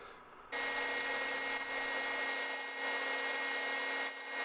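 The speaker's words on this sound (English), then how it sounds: "I can run that through to just cut a little dado in the middle of each of these pieces" A table saw cuts a small dado through a wooden piece, starting abruptly into a steady high whine with a constant tonal hum, staying loud and even for several seconds without talk.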